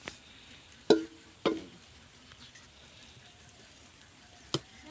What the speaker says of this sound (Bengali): এই যে বড়ি কাটা হচ্ছে